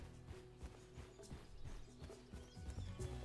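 Horse hooves clip-clopping at a steady walking rhythm in a cozy video game, fairly close, with a faint whinny and soft background music, and no talking.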